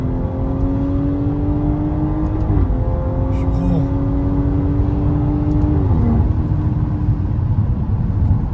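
A BMW 340i engine revs up with a rising whine as it accelerates hard, loud and close, steady road rumble underneath.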